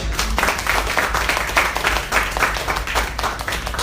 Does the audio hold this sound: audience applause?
yes